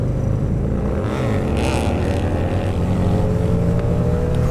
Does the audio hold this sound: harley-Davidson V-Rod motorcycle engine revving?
yes